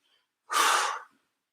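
One loud, close breath, a forceful exhale or sigh lasting about half a second, during a core workout, set between quiet gaps.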